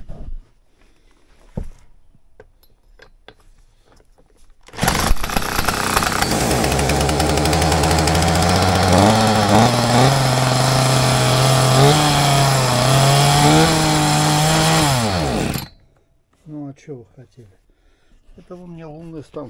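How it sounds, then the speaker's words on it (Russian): A scrap-salvaged chainsaw's petrol engine catches and roars loudly, revving up and down for about ten seconds before cutting off, with a few knocks before and after. "Это бензопилу с металлолома завести."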